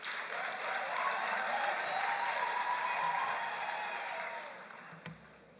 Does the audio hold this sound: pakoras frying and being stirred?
no